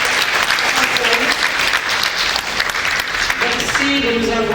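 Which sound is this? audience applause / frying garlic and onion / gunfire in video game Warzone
audience applause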